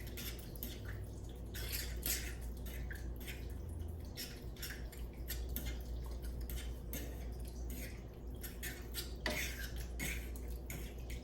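A spoon stirring garlic into spaghetti sauce in a pot, with soft repeated scraping, clinks and wet squishing sounds at a steady pace.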